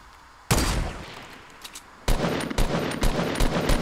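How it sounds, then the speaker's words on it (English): Gunfire and rocket blasts in the video game Fortnite: a sharp loud burst, a short lull, then a rapid volley of repeated close shots and explosions in an irregular rhythm. "These guys shooting rockets, yep."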